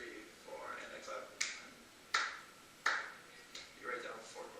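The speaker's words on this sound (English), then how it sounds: "if I clap" A few sharp hand claps, spaced roughly evenly about three-quarters of a second apart, ring out in a classroom, moderately loud with a voice speaking faintly underneath.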